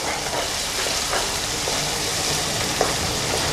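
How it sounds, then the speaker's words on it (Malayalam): Onions frying in a pan for fish curry while being stirred: a constant hissing sizzle with faint scraping strokes, close and even, and no talking. "ഉള്ളി ഇട്ട് കൊടുത്തതിന് ശേഷം അതിനെ നന്നായി ഇളക്കി വേവിക്കുക"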